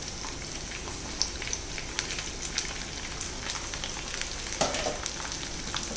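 Steady crackling sizzle of onions frying in a pot, a dense continuous hiss with scattered pops, no voices.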